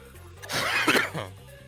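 A person coughs in one short harsh burst of a few hacks, close and fairly loud, in a quiet room.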